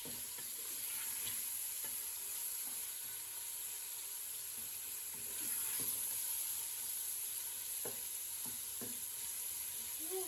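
Beef pieces frying in hot oil for a stew: a faint, continuous close sizzle with occasional light utensil taps, no voices.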